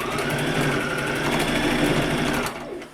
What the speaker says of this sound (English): So I'm just gonna go and sew that corner down.